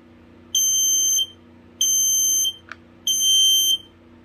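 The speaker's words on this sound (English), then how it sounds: "That is the slowest code 3 alarm I have." A FireX ADH heat alarm sounding a slow code 3 pattern: three loud, shrill electronic beeps, each lasting about half a second, separated by pauses, close by with no talk.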